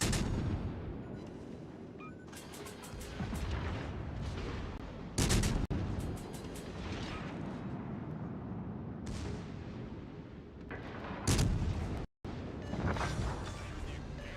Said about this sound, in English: Il cacciatorpediniere nemico è saltato in aria